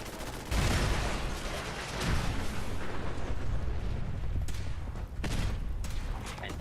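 Sentry bots in Fallout 4 unleash a sustained barrage of heavy gunfire and explosive blasts, a dense, loud roar of rapid shots and booms that continues without pause.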